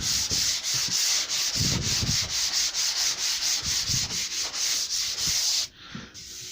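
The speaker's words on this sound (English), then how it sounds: "120 just to knock off any lumps" Close, rhythmic hand sanding of a hollow core shelf with 120-grit sandpaper: steady back-and-forth rasping strokes that continue without a break and then stop briefly near the end.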